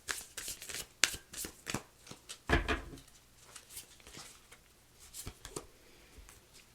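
Moonology oracle cards being shuffled by hand, with soft riffling swishes and flicks in uneven bursts and one louder slap of the deck partway through, close up and quiet, with no talk.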